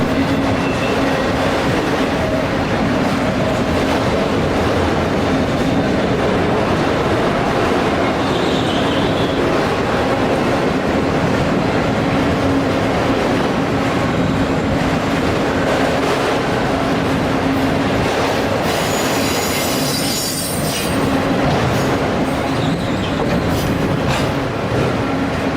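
Freight train 11J, led by three locomotives, rolls past out of North Jersey near Allentown with a loud, steady rumble and clatter of wheels on rail that lasts throughout, joined near the end by a brief metallic squeal, and no talking.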